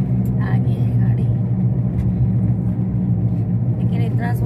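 A car on a quiet, deserted road at night gives a steady low rumble throughout, with people talking over it.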